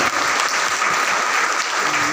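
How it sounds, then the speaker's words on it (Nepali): A crowd at a celebration event in Kathmandu claps loudly and continuously, a dense, sustained burst of applause from start to finish. "फेरि पुनः एक पटक जोरदार ताली, जोरदार क्लैपिंग प्लिज, जोरदार।"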